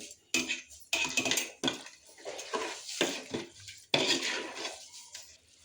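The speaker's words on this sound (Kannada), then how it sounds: "ಸೊ ಎಲ್ಲವೂ ಈ ಥರ ಮಿಕ್ಸ್ ಮಾಡಿ" Veg pulao ingredients being mixed in a pot over a high flame: a spoon scraping and clattering in repeated close bursts with short pauses, and no talking.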